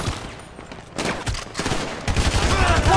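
Gunfire erupts in a GTA 5 mission, with loud, sharp shots arriving in irregular bursts that thicken toward the end amid chaotic game noise.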